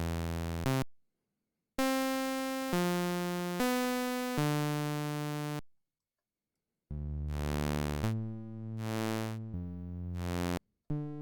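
Voltage Modular synth patch using audio-rate amplitude modulation of a sine and square wave, sounding as a run of buzzy sustained tones that switch pitch in steps, broken by short silences and a longer gap before a wobbling, pulsing stretch.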